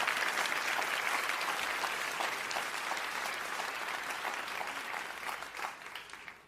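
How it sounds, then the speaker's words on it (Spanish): Congregation applauding during a church service, a steady dense wash of clapping that stays loud throughout and thins slightly toward the end. "Vamos, si vas a aplaudirlo con más ganas el día de hoy."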